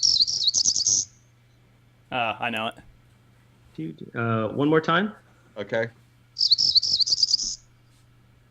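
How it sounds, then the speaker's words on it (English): Cerulean warbler song: two bursts of high, buzzy, rising trills, one at the start and one near the end, with people talking in the gap between them. "Cerulean warbler is correct."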